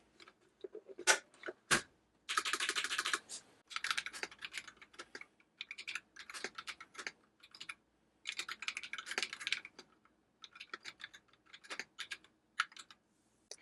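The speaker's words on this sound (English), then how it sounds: "I'll try typing on this." Someone types at a quiet, steady pace on an ONIKUMA 80% wired RGB mechanical gaming keyboard. The bursts of clicky keystrokes come close to the listener and are broken by short pauses.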